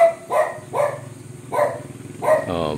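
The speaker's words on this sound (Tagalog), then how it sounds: "Teka, maingay yung aso." A dog barks nearby in a regular series of four or five loud, sharp barks spaced about half a second apart, with a washing machine humming faintly in the background.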